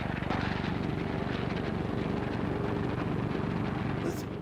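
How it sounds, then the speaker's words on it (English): WWII US bomber squadrons heading for Nazi Europe, a dense, continuous roar of aircraft engines and propellers, loud and steady throughout with no speech over it. "the sight and sound of U.S. bomber squadrons heading for Nazi Europe"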